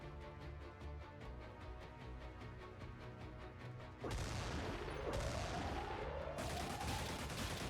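Laser gunfire in the video game Xenonauts 2 during air combat, a dense continuous barrage of rapid shots that grows louder and harsher midway, with descending whooshing sweeps over the steady firing.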